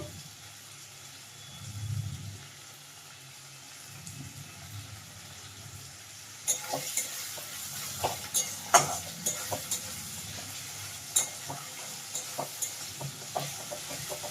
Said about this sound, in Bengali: আবারও ভালোভাবে আমি কষিয়ে নিচ্ছি মশলাগুলো